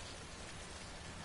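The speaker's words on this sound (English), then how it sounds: "Okay, it's also raining now." Steady rain from the video game Death Stranding pours in a dense, even hiss with no pauses, constant and moderately quiet throughout, with no voices over it.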